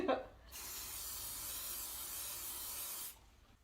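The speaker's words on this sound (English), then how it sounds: "This is her hairspray, so I hope she doesn't mind that I'm using it." Hairspray sprayed from an aerosol can onto a wood floor marked with permanent marker, a steady broadband hiss lasting about two and a half seconds after a brief rustle, fairly close.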